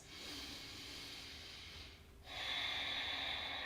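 Slow, deep breathing through the nose while holding a yoga pose for hip and lower back release: a long, airy inhale, a brief pause, then a louder, hissing exhale, close and alone.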